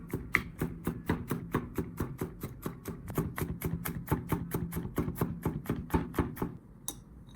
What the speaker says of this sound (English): Remove the skin from the garlic and mince it into small pieces.